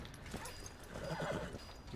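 A horse whinnies and neighs in the western video game Red Dead Redemption, with hooves clip-clopping beneath, moderately loud and close, with no talk.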